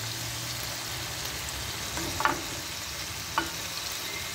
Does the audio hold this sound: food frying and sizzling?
yes